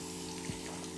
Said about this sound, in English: give them a quick rinse to get the salt off